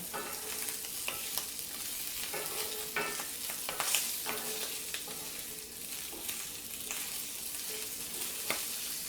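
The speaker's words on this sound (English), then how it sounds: "Just trying to dodge all the little bits of oil that are skipping out of the pan." Breakfast sausages fry in a cast iron pan, oil spattering in a steady crackling sizzle with small pops and occasional utensil scrapes throughout.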